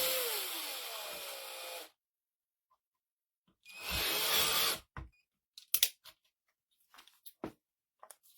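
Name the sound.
power drill drilling a hole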